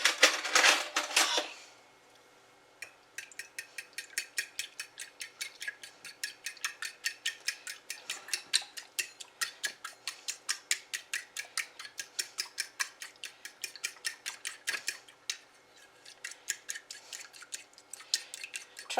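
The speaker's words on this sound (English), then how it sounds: "trying to mix this up without putting half of it on the cutting board" Milk and egg batter for ham and cheese French toast sandwiches being whisked in a bowl, a fast run of light rhythmic clicks and taps that continues steadily for most of the clip, close and fairly quiet.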